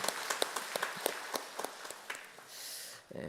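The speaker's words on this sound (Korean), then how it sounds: "우리 어르신들 위하여서 감사의 박수하도록 하겠습니다." A church congregation claps in thanks for the elders during a Sunday service, scattered claps that thin out over a few seconds before a brief noise near the end.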